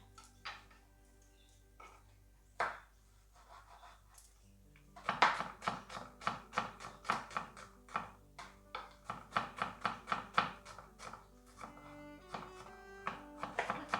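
A knife chops and dices vegetables on a cutting board for a vegan roasted capsicum risotto, a few isolated knocks and then a fast, steady run of close, crisp chops.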